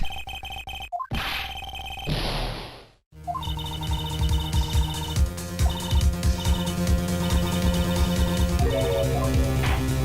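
A cell phone ringtone in the Phoenix Wright: Ace Attorney video game, a bright electronic melody sounding amid abrupt game effects and a short burst of music, followed by layered tonal game audio.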